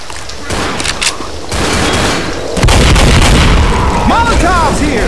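Gunfire in the zombie shooter Left 4 Dead, dense bursts of shots and booms that grow louder midway through, with voices talking over the shooting and bright whistling tones near the end.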